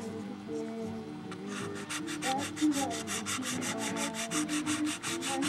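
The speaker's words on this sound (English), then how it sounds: "Any one of the sanding tools that'll fit in there." A high-quality finish is sanded by hand with a small sanding tool, making steady rhythmic back-and-forth rubbing strokes, close and clear with no talking.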